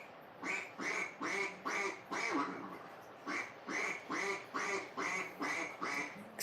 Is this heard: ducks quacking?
yes